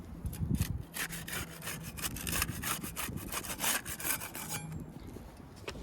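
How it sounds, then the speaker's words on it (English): A putty knife prying apart sealed asphalt roof shingles, making a close, continuous rough scraping and rasping with rapid repeated strokes and no speech. "We'll use the putty knife to unseal the top shingle."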